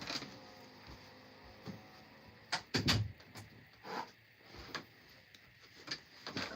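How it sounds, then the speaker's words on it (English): Indoor door shut with a few muffled thuds and clicks, faint and close, over a quiet room background. "Let me shut my door."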